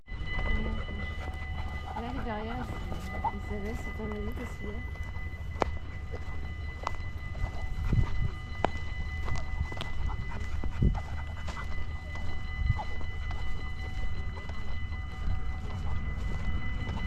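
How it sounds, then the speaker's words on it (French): A tram rolls past on its rails during a van road trip in the Netherlands, a steady close rumble with rattling wheel noise and squeaks running through the whole stretch, while people talk faintly underneath. "Et voilà, c'était le tramway."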